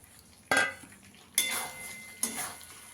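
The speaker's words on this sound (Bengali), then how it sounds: "এবার ফুলকপিটাও ভালো করে কষিয়ে নেব।" Cauliflower florets stir-fried with a cooked spice masala in a pan for phool kopi korma, with three sharp scraping clatters of a spatula against the metal pan over a faint frying hiss.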